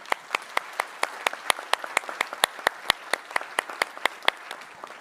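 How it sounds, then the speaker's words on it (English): Applause from a conference audience in a large hall after opening remarks, a steady run of sharp, distinct claps at moderate level, fairly sparse and evenly spread, with no voices over it. "Let's give them a warm round of applause."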